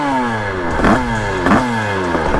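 Sherco motorcycle fitted with a 75 kit and Top Rose 2.0 setup revs hard up close, a loud, raspy engine whine sweeping down and back up in pitch over a steady roar, with brief throttle blips.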